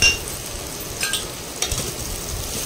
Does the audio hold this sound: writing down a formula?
no